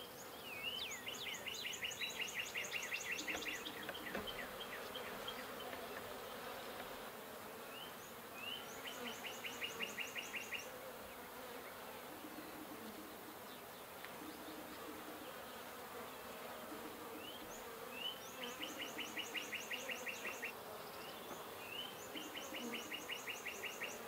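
Honey bees buzz steadily and close throughout the inspection of a horizontal hive split, with some comb being removed, while birds chirp in repeated bursts in the background; no one speaks.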